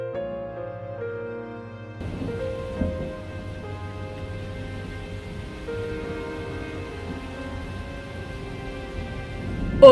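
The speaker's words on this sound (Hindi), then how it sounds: "ये मौसम तो खराब हो रहा है, अब बारिश होगी क्या?" In a cartoon, soft steady rain begins after about two seconds, a faint hiss under a sustained tonal musical background.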